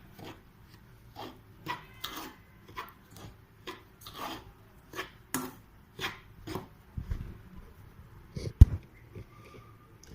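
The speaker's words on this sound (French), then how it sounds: "on prend une cuillère et il faut bien mélanger" A spoon mixes harcha dough with butter and oil in a bowl, giving a steady series of gritty, rasping scrapes roughly twice a second, close and fairly quiet, with no voices.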